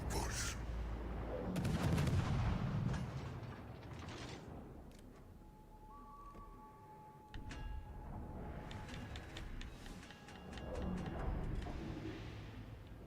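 Naval guns fire in a World of Warships: Legends battle, with a couple of heavy booming salvos rumbling under steady game noise and tones.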